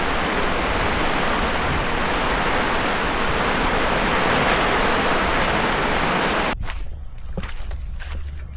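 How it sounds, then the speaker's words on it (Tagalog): Steady, heavy rain falls as a loud, dense hiss that stops abruptly near the end, leaving quieter drips and light noise. "Husay naman ng ulan na yun."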